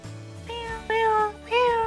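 A stray cat gives three short meows, each rising and falling, close and clear against a quiet background.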